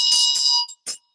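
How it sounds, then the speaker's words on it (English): A ritual bell in Buddhist Medicine Buddha practice rings out bright and sustained, followed by a few shorter, fading strikes. "we would be ringing the bell"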